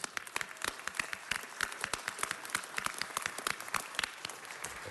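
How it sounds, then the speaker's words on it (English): Audience applause at a city council meeting for Lakers legend A.C. Green, made up of sharp, distinct claps from a small group, close and fairly steady throughout. "Let's give him a round of applause."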